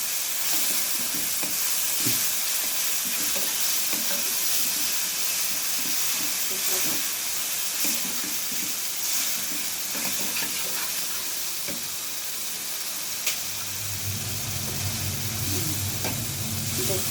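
Beef with spices sizzling and hissing steadily in a pan for a Sylheti hatkora beef dish, a continuous broadband fry with faint stirring clatter, growing denser and lower near the end.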